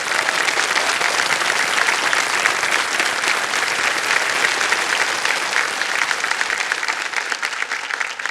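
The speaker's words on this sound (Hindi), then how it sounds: "तालियां बज जाए इनके लिए एक बार फिर।" A studio audience at the KBC quiz show bursts into sustained applause, a dense and even wash of clapping from many hands that holds steady and fills the room for the whole stretch.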